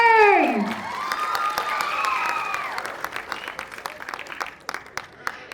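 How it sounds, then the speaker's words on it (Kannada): Loud audience applause at a Kannada film launch event, following a brief sweeping tonal sound at the start; dense clapping swells and then gradually thins into scattered individual claps. "ಒಮ್ಮೆ ಜೋರಾದ ಚಪ್ಪಾಳೆ"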